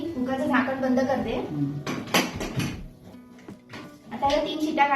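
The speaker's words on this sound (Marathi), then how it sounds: "आता मी कुकरचं झाकण बंद करते." A pressure cooker lid is closed over dal in a home kitchen, with a few metallic clanks and a scraping clatter of pot and lid while someone talks throughout.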